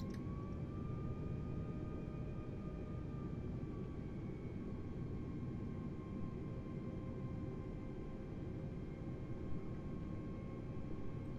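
Airliner jet engines in Microsoft Flight Simulator 2020, taxiing after landing at San Francisco International: a steady, quiet engine rumble and broad hiss with a faint high whine that slowly falls in pitch.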